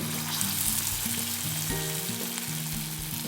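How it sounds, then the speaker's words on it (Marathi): Urad dal dahi vada batter sizzles steadily in hot oil over a medium flame, a dense, continuous frying hiss close by, with no voices. "आता हे मी वडे तळायला तळायला घेते"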